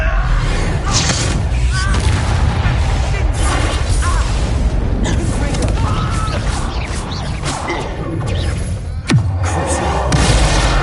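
A Bombarda blasting spell goes off in the Hogwarts Legacy game, a heavy booming burst with thuds and crashing debris in a busy, continuous battle mix, with a sharp impact near the ninth second and voices talking over the din.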